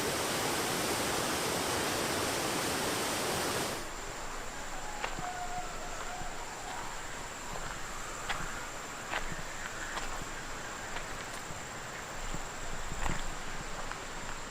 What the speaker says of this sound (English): a lot of beautiful waterfalls on the way.